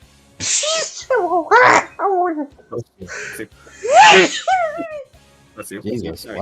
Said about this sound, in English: That was like a cartoon sneeze, like a fucking like I feel like Goofy fucking sneezed that